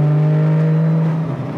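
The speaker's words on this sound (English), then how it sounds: "I can't believe the turbo noise. It's overwhelming is what it is." A Nissan R34 GT-R's turbocharged engine holds a loud, steady rev with a strong droning tone and turbo whine, easing slightly toward the end, with no talking.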